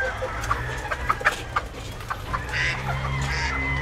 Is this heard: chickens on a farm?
yes